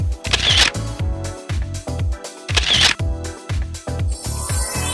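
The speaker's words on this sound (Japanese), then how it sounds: "はい、じゃあポーズお願いします。写真撮ります。" A camera shutter fires again and again during a photo session for a boy's outfits, sounding as a steady series of sharp, close mechanical clicks with brief gaps between bursts.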